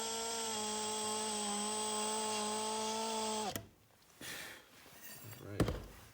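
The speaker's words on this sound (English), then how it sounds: "No, I'm actually gonna have to drill just a little more." A drill whines steadily into a metal skid weight plate for an RC car, close and even, then cuts off abruptly partway through, followed by quiet handling noises and a few scrapes and knocks.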